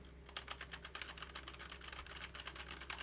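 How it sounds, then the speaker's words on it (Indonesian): Rapid, steady keyboard typing, a quick run of light clicks close by with a faint hum beneath and no talking. "Mungkin ini gua bakalan tes ya pakai keyboard"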